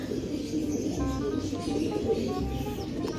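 Racing pigeons coo in a loft after a rainy training flight in Tayug, Pangasinan: soft repeated low coos, close and steady, over a busy background of rustling.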